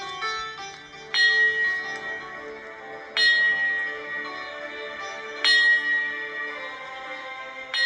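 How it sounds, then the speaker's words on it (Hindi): A holy bell at a gurukul rings out to announce the assembly, with three clear metallic strikes a couple of seconds apart, each leaving a long, bright humming decay. "ये पवित्र घंटी बता रही है कि शिखर गुरुकुल की सभा शुरू होने में कुछ ही क्षण बचे हैं।"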